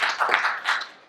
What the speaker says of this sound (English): Y'all can join me in clapping if y'all want to.